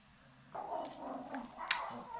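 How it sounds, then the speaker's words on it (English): Dogs bark and yip outside an open window, faint and somewhat distant, with a few short bursts over quiet indoor room noise. "The dogs are out chasing somebody."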